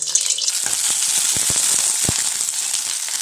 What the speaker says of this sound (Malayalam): എണ്ണ ഒഴിച്ചു കൊടുത്തിട്ട് ആദ്യം ഇല്ലോട്ടെ വെണ്ടയ്ക്ക ഇട്ട് കൊടുക്കുന്നത്